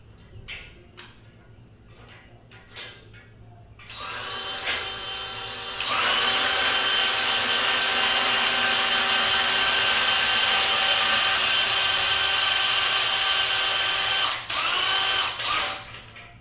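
A power drill whirs loudly and steadily for about ten seconds after a few quiet knocks, driving a motorcycle lift for a Honda Gold Wing, then cuts off briefly and spins again.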